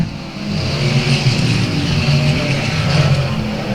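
Race cars roaring around the oval at South Texas Speedway, a loud continuous engine howl that rises and falls as the cars pass.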